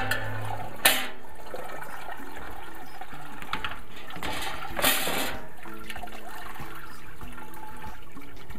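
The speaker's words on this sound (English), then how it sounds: "And now we're just going to let this drain." Wort drains from a brew-in-a-bag grain bag into a stovetop pot during an all-grain home brew, a steady soft trickle and splash running throughout with a couple of louder bumps, fairly quiet and close.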